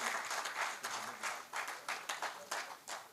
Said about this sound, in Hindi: एक बार तालियां तो उठाओ